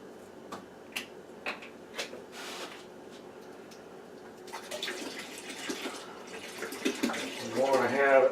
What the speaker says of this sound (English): Then I need to add some cold water to it to bring the level up and to get the temperature down.